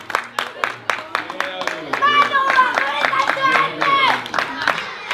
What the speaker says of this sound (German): Wir klatschen für euch und ihr verbeugt euch dann, ja?